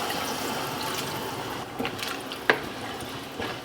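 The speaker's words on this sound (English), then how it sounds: "We're gonna add some water. This is hot water." Hot water pours steadily into a pot of beef stew, a continuous hissing splash that tapers off near the end with a small clink, no voices.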